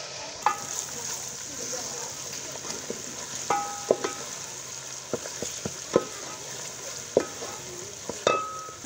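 Ginger-garlic paste masala for chicken kofta frying in a pan: a continuous close sizzle broken by repeated sharp metallic spoon scrapes and clinks at irregular intervals, with no talking.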